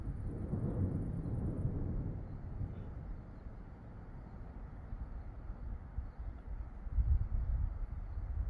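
Deep, sustained rumbling of thunder from a strong thunderstorm rolls on without a break, swelling and fading with a heavier surge near the end, mixed with broad wind-like noise.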